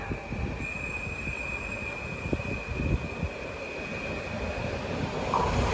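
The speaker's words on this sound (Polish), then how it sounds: "O, właśnie mijanka!" A Pendolino ED 250 and an Intercity train pass each other at a station, a steady loud rumble of wheels on rails with a faint high squeal running throughout.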